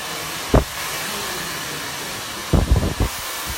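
A hair dryer blows steadily on a section of short hair, a loud continuous whooshing hum with a few low thumps and bumps as it moves.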